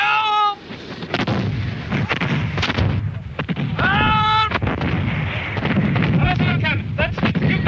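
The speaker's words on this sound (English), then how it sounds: "That's Cumberland's cannon." Cannon fire from Cumberland's battery on the Culloden battlefield: repeated deep booming blasts, loud and close, with shouting voices and commands between the shots.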